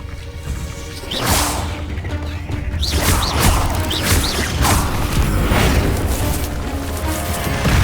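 Protego shield charm cast during combat in Hogwarts Legacy, a sharp magical whoosh with creaking, crashing impacts and repeated swishing bursts over dense, loud battle noise.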